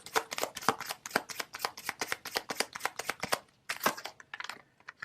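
Tarot cards are shuffled in quick crisp riffles and slaps, a steady run of sharp papery bursts close up, a brief pause, then a few more snaps as a card is drawn.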